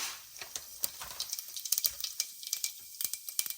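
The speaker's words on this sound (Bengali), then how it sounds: "এবার আমি তেলের মধ্যে এক এক করে ফোড়ন দেব। এটা হলো, আমি এবার দিয়ে দিচ্ছি একটু জিরে ফোড়ন।" Cumin seeds dropped into hot oil for chicken curry, giving off a faint, close crackle of small irregular pops and sizzles with no talking.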